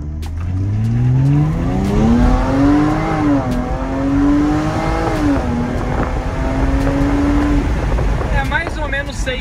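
Jaguar F-Pace accelerating hard from 0 to 100 km/h, engine note climbing steadily through the gears with brief shift dips, loud and continuous from inside the cabin, with road and wind noise underneath.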